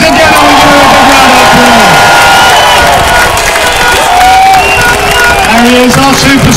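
A large outdoor crowd at the Silverstone Formula 1 Grand Prix in 2013 cheers, whoops and applauds Lewis Hamilton, a loud, continuous roar with shouts rising over sustained clapping throughout.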